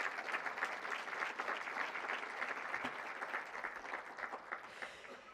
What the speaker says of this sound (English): So how about a round of applause for our sponsors?